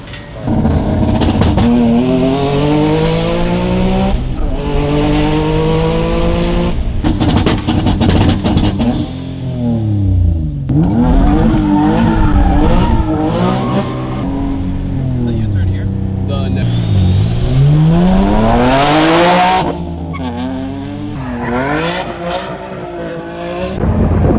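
A boosted single-turbo Nissan 350Z making over 500 hp pulls hard through the gears, its engine loud and close as it climbs and shifts again and again, with voices talking over it.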